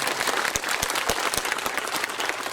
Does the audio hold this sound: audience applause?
yes